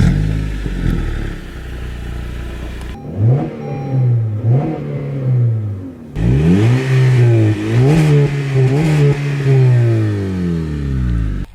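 A 2013 Acura ILX car engine revs and accelerates on the road, loud and close, its pitch climbing through several gear pulls with brief drops between shifts.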